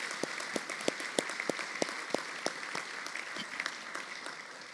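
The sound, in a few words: audience applause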